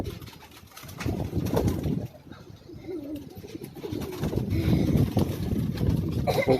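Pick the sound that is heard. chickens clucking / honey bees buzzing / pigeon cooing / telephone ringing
pigeon cooing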